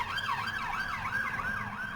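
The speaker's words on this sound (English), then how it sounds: "there's a ambulance going past" An ambulance siren wails in a steady rising-and-falling cycle as it passes close by, loud and continuous over low road rumble.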